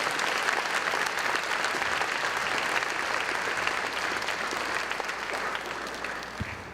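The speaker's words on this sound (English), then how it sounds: "I ask you to give everybody in this room a round of applause." Sustained applause from a large audience, dense and steady clapping that holds at full strength and fades slightly at the end.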